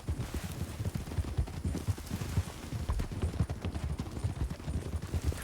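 Steady clip-clop of a horse's hooves in a video game plays as an even, galloping rhythm over a constant bed of game noise, with no talking.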